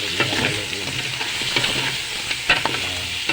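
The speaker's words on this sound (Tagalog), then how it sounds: "Haluin natin. Haluin na haluin." Food sizzling steadily in a frying pan while being stirred, with a bright continuous hiss and scattered scraping clinks of the utensil, close and clear with no talking.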